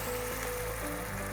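Water is poured into a cooking pot holding lean lamb and tomato paste for cabbage soup, making a quiet, steady splashing rush for just over a second.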